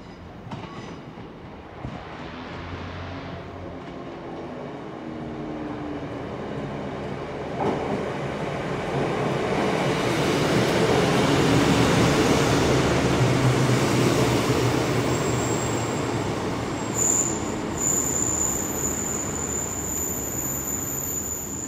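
A train rumbles into Exeter St Davids station steadily, its noise building to a broad roar and then easing, with a high squeal of brakes near the end.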